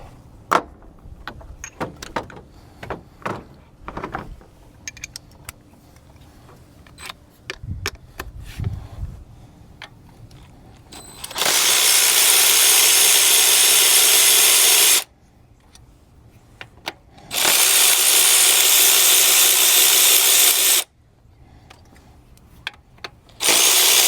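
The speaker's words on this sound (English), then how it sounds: "we're going to go ahead and take off these 10mm bolts" Power tool loosening 10mm bolts on a Toyota Highlander engine during a spark plug and coil job, two long steady whirring bursts following scattered clicks and handling knocks nearby.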